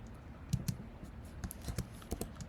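Rapid keystrokes of Python code being typed on a computer keyboard, a close, uneven run of sharp clicks with short bursts and pauses, no voices.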